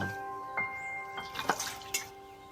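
Water drips and splashes softly as neem leaves are rinsed in a home kitchen, a few faint scattered trickles and drops over quiet background with no talk.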